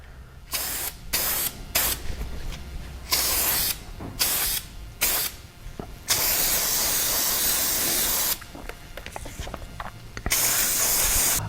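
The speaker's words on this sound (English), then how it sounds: "we'll just kind of give it a good solid spray here" Aerosol filter oil sprayed onto a K&N motorcycle air filter from a Harley-Davidson, loud close hissing bursts of varying length, some short and choppy, others long and sustained, separated by brief pauses.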